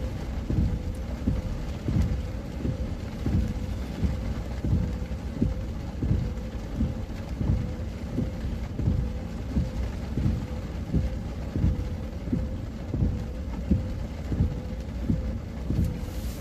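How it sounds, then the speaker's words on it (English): Steady rain drums on a car during a storm chase near Lake Erie while the windshield wipers sweep in a regular rhythm, about one soft thump per second, with a continuous wash of rain underneath and no talking. "the rain and the wipers"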